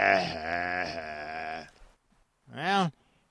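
A sheep gives a long, loud, quavering bleat up close, then after a short silence a second, brief rising-and-falling bleat, in a dramatized tale of the Dragon of Krakow.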